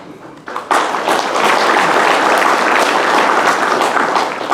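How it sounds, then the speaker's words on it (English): Dense, loud applause fills a hall at an annual business meeting, rising sharply after a brief moment and holding as a steady, full wash of clapping from a large crowd. "I know that applause is for her and not for me."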